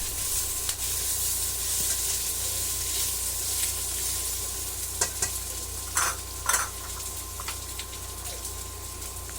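Squid balls stir-fry in a hot pan for pancit bihon guisado, a steady sizzle punctuated by a few sharp scrapes and clacks of the spatula stirring, with no voices.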